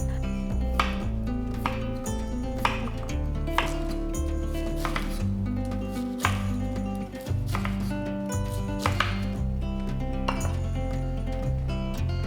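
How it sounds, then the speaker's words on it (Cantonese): Vegetables such as potato and cabbage being chopped with a knife on a board for a weight-loss soup, producing sharp, fairly regular knife thuds and clicks close by. Soft music plays underneath and no one speaks. "首先，我哋將所有菜切好"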